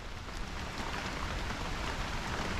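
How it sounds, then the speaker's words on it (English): Steady, dense rain drumming on a waterproof jungle survival shelter, close and continuous with no break. "Yeah, listen to that, that's rain."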